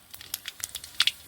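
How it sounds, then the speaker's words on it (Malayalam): Mustard seeds splutter in hot coconut oil, popping in quick irregular crackles and snaps. The sound is close and fairly faint, and no one speaks. "കടുക് ഇട്ട് കൊടുക്കാം."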